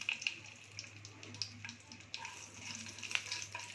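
Dried chillies and a bay leaf sizzle in hot oil in a pan with soft, faint crackles and pops over a low steady hum, with no talking.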